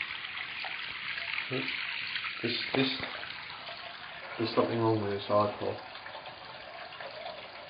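Water runs from a tap into a container, a continuous splashing hiss under a man's speech.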